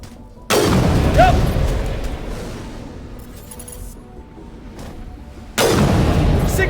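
Gunfire in Mass Effect Legendary Edition: two heavy, booming shots roughly five seconds apart, each with a long decaying tail, loud and close over a quieter game background.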